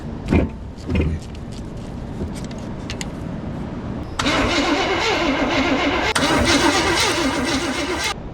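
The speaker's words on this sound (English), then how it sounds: "Let's give it one more crank." An old truck engine, abandoned in the woods for over a decade, cranks with a few short mechanical bursts, then catches and runs at a loud, rough idle with a pulsing rhythm that steps up slightly near the end.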